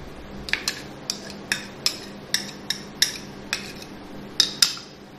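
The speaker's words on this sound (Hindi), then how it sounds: "इसको मिक्स कर देंगे।" A utensil mixing chicken marinade with lemon juice, raw papaya, black pepper and salt, clinking against the bowl in roughly a dozen crisp, evenly paced taps, close and clear.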